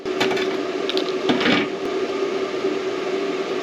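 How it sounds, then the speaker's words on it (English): A flux-core welder running on metal, a steady loud crackling buzz with a constant electrical hum and a few brief sharper bursts, no talking. "I think I'll turn the welder down a little bit. It's a bit hot."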